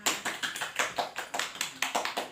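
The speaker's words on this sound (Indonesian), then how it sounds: "tepuk tangan buat Esa" Students in a classroom clap for a classmate, a short burst of around a dozen rhythmic, fairly even claps at a steady beat, close and clear with no talking.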